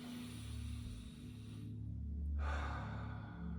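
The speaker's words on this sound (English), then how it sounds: "meditation is simply just taking a few deep breaths" A single deep breath drawn in during a meditation, faint and close, over a steady low background hum.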